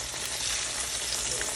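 Cornmeal-coated green tomatoes fry in a hot pan with a steady, dense, close sizzle and crackle that holds constant throughout, with no voices over it.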